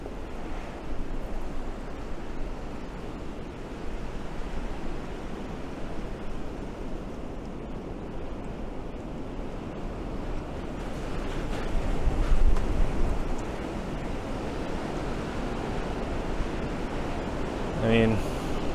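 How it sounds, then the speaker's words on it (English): Strong wind gusting during a winter blizzard in Buffalo, with a steady roaring wash of noise that swells around the middle, heard outdoors near trees and a shop. "now the wind's picking up"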